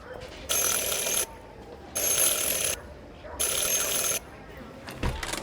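A doorbell rings three times in the video game Syberia: The World Before: three long, bright, buzzing rings of equal length, evenly spaced with short quiet gaps, loud and close over faint room tone.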